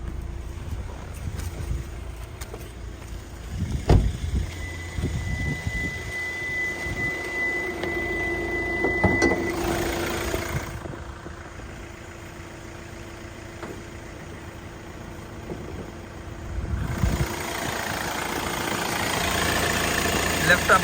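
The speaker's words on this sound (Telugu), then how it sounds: "బ్యానెట్ ఓపెన్ చేసి ఇంజన్ చూపిస్తానండి." A car engine idles under an open bonnet, a steady mid-low hum that runs for the whole stretch, with a few louder knocks and shifts partway through and some faint voice in the background.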